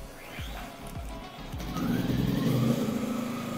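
A 2000-watt Allen generator runs steadily at close range, its low engine hum holding even after a few thumping starts and settling into a continuous drone.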